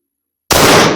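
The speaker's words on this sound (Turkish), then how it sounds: "Şimdi biz anlattığımız şekliyle bir tane atış yap bakalım nereye vuruyorsun." A single pistol shot cracks out suddenly at a shooting-training range after half a second of silence, a loud close blast whose echo fills the rest of the moment.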